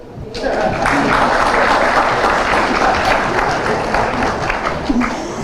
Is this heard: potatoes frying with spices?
no